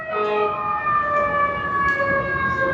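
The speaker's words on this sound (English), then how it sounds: "It sounds like a fire engine." A fire engine siren wails steadily and loudly throughout, its tones sustained as it passes close by, with no voices over it.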